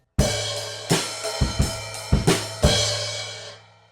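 A drum kit plays a short measure of sharp hits with a bright crash cymbal on the and of 4 near the end, ringing out and fading, with no talking.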